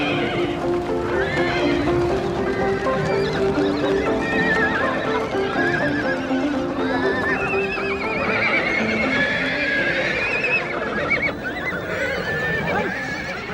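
Several Mongolian herd horses being gathered for breaking in whinny and neigh repeatedly in loud, overlapping calls, with the steady clatter of hooves and herd movement continuing underneath throughout.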